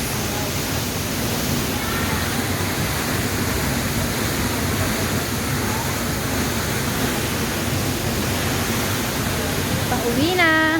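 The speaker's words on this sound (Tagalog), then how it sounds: "Waterfall." Nunok Falls pours in a steady, dense roar of falling water that fills the scene from start to finish, with a voice briefly rising over it near the end.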